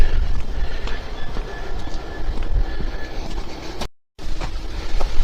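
Loud, continuous rumble of a train rolling along the tracks nearby at a railway junction near Trent Lock, with faint clatter and a brief dropout partway through.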